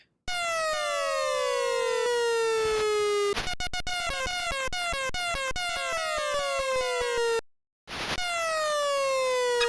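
Ambulance siren wailing in a video game, loud and continuous with repeated sweeping wail cycles, broken by a rapid choppy burst midway and a brief dropout near the end.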